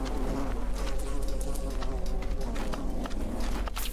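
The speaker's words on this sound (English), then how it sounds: "No! Not the bees!" A swarm of bees buzzes steadily in the Tower of Mask video game, a dense, continuous drone that stays close and loud for several seconds, with scattered clicks and footstep-like taps mixed in.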